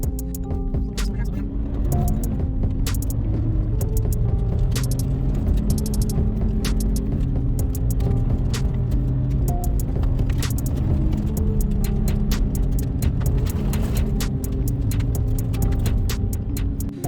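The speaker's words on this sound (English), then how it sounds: "the rest of the road was gravel, and usually I wouldn't take my car on roads like this" A Toyota FR-S engine drones steadily from inside the cabin on a gravel road, with crackling, ticking tyre noise over loose stones throughout and a voice speaking over it.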